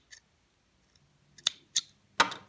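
Scissors snip thread for Turkish needle lace. A few crisp, isolated cuts come close up in a quiet room, spaced unevenly, with a faint click at the start.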